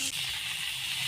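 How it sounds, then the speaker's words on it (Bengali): Potato pieces frying in hot refined oil in a wok, a steady close sizzling hiss that holds evenly for the full moment after a brief initial burst. "এবার প্রথমেই আমি আলুগুলো ভেজে নেব।"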